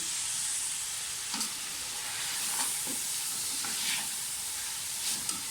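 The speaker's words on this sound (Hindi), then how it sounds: "अच्छी तरह से इसकी बुनाई कर लें।" Mutton and tomatoes stirred and frying in a pot give a steady sizzling hiss, with a few soft scrapes of the spoon rising briefly over it; nobody speaks.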